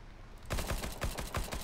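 Rapid bursts of gunfire in a competitive match of the video game Counter-Strike Global Offensive, starting abruptly after a brief quiet moment and continuing as a loud, dense volley of repeated shots.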